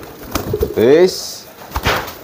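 An old breeding racing pigeon gives a short, close cooing call, with brief bursts of talk around it.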